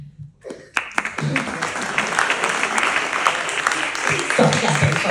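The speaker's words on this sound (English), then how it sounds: "Stop clapping for me." After a brief spoken line, an audience at a Rotary Club of Bombay talk breaks into sustained, dense applause for someone, the clapping steady and fairly loud for several seconds.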